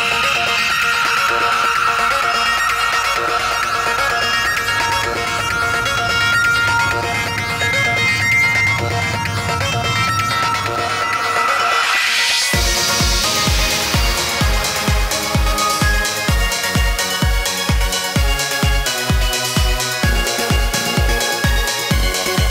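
A track from the Digimon Story Cyber Sleuth: Hacker's Memory game soundtrack plays. A hazy synth layer sweeps up into a driving, evenly pulsed electronic beat with a bright melody on top.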